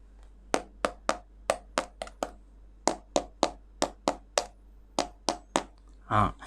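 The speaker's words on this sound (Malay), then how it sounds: "So ketuk itu durian, dia akan keluarkan bunyi tau." Sharp knocks on a durian fruit, testing ripeness, about fifteen crisp taps in an uneven rhythm, close and fairly loud, ending with a short hollow thump.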